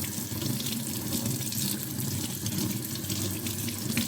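Tap water runs steadily into a sink while a paint brush used for masking fluid is rinsed under it, a continuous close splashing gush with no talking.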